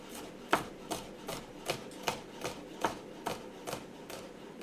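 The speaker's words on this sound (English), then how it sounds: "So for the garlic, I'm going to thinly slice it all one way." A knife thinly slicing garlic on a cutting board for caponata, about a dozen soft, evenly spaced strokes in a steady rhythm, close and quiet.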